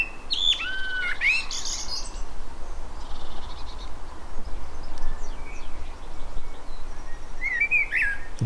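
Young wrens in a garden give a few high, thin chirps and short trills, spaced apart over a steady outdoor background hum.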